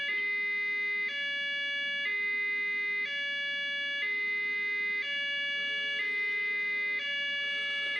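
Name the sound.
siren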